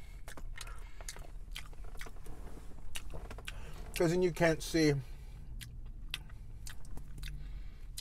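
Someone chews a McRib sandwich with an open mouth, producing soft wet smacking and crunching clicks up close, with a brief spoken phrase in the middle.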